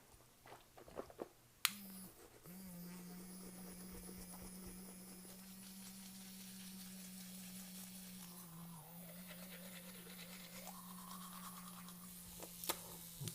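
A toothbrush scrubbing teeth inside the mouth after a hydrogen peroxide rinse, a continuous close, soft rhythmic brushing with a low buzzing hum that holds steady for most of the stretch, a few clicks near the start and end, no talking.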